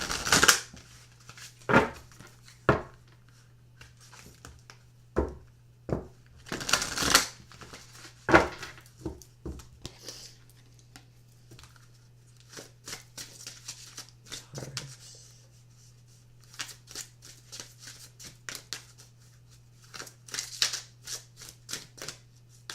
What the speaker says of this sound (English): I need to pull a romance angel card first